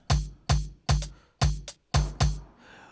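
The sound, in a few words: amapiano percussion pattern in FL Studio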